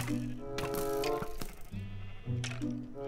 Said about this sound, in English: Okay, here's sheep in here.